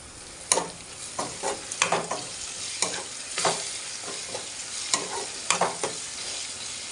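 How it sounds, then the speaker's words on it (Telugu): Green chillies and cumin fry in a pan for potato fry, a steady close sizzle broken by repeated scraping stirs of the spoon, with no voices. "కొంచెంసేపు ఫ్రై చేద్దాం."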